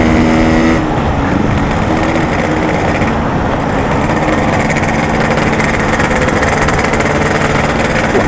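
A Yamaha RX-King two-stroke motorcycle engine runs loud and close with a continuous raspy buzz after a brief opening rev, steady throughout with no voices.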